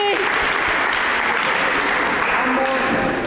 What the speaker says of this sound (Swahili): We clap for them.